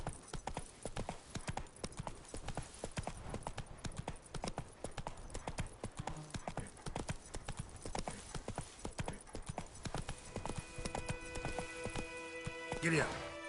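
Hooves of a horse trotting in The Witcher 3 video game, a steady fast clip-clop running throughout, close and fairly loud, with a rider's short spoken urging and some game music tones near the end.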